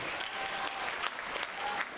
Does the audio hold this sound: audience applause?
yes